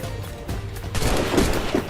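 Musket volleys crackle in a tense Assassin's Creed Rogue gameplay firefight, a dense rattling fusillade of overlapping shots with a couple of louder bursts near the end.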